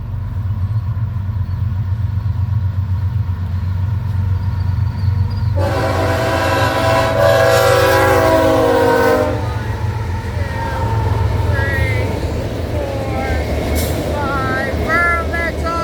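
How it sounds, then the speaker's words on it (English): A BNSF ES44C4 locomotive leads an autorack train past, its horn blaring loudly for several seconds midway over the constant heavy rumble of the passing cars, with squealing wheel tones following. "Here comes the train."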